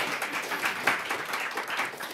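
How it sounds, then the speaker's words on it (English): An audience at a mayoral press event applauds, a moderate, even patter of many hands clapping with no talk over it. "So you can clap for that."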